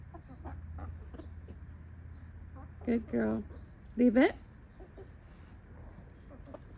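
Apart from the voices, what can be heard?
neighbor's chickens clucking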